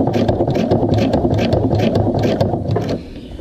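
A sewing machine runs steadily through thick vinyl seams with a dense, rapid mechanical chatter and regular stitching pulses. It slows and quiets near the end, with no talking.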